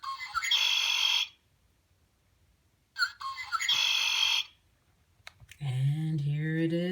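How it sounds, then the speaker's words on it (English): A male red-winged blackbird sings two bright, buzzy trilled phrases with clear gaps between them, close and prominent, followed by someone talking. "And here it is, the red-winged blackbird."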